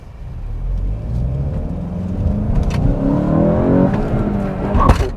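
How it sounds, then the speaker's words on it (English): A 2022 VW Golf GTI with a manual gearbox revs up while driving, its engine snarling louder and higher as it accelerates over a steady road rumble, heard from inside the car. "I like the nice snarl that this engine has."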